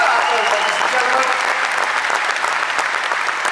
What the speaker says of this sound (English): he deserves one massive final round of applause